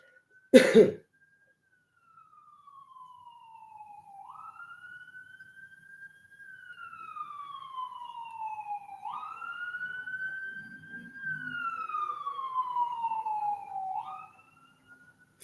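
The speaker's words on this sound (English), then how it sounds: "We do stop out of respect for the sirens when they come through." A siren wails in long rising and falling sweeps for over ten seconds, steady and fairly loud, after a single sharp cough at the start.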